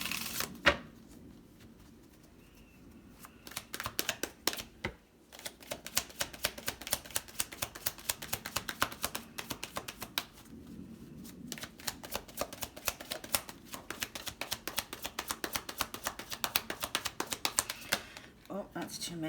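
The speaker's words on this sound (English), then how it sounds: "I'll do one more shuffle." Tarot cards are shuffled by hand in a quiet room, with rapid riffling bursts and flicking clatter repeated over several seconds, close and fairly soft, with a brief pause between runs.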